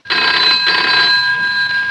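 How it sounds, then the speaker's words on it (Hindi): A vintage telephone bell from a 1966 Hindi film rings loud and close in one continuous electric jangle that lasts nearly two seconds. "बाबली ने दीदी को फोन किया।"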